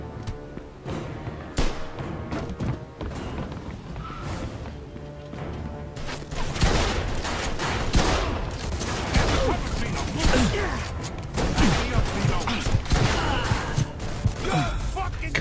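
Gunshots and crashing impacts ring out during a shootout in the video game Mafia II, quieter at first and then louder and busier after about six seconds, with irregular bursts mixed with mechanical clatter and voices.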